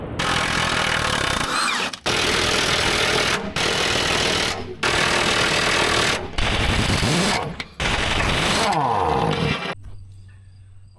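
An impact wrench rattles in loud, sustained bursts while it works bolts loose beneath a heavy-haul truck with a V12. The runs are separated by brief pauses, and a short lower tail follows at the end.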